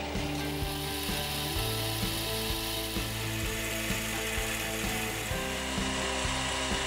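A lathe runs steadily while a clock regulator collar is hand turned, a continuous close mechanical whir with rhythmic ticking and clicking throughout, no voices.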